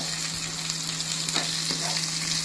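Chopped onion sizzles steadily in a pan over medium heat, the base for a chicken rogan josh, giving a continuous close hiss of frying with a few faint stirring scrapes.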